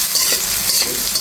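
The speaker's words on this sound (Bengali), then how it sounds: "এখানে একটু নেড়ে চেড়ে ভেজে নিচ্ছি" Onion paste and fish fry in a pan while being stirred, a loud, close, continuous sizzle with faint scraping underneath and no voices.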